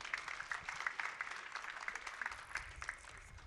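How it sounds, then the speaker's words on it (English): Applause from a university graduation ceremony crowd comes through faintly and from a distance, an even patter of many hands clapping at a large outdoor or hall gathering, quiet and continuous throughout. "Can we have another rousing round of applause for the Chancellor"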